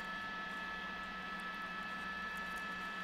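A police helicopter hovers over a freeway car chase, a steady, even rotor and engine drone that sounds distant and muffled, with a constant hum and no talking.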